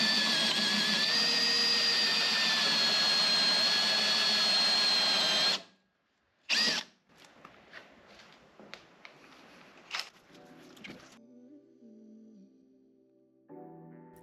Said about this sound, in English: After drilling the hole